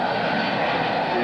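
Propeller airplane engine droning steadily as the aircraft flies a low, slow turn with gear and flaps down at a 1995 London, Ontario international airshow, a continuous moderately loud hum under a crowd's ambient noise.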